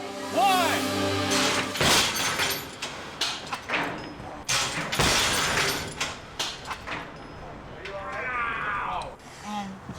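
A crash test impact in the brace position, where a head slams into the seat ahead: loud thuds and clattering crash noise, broken glasses included, with people talking and exclaiming throughout.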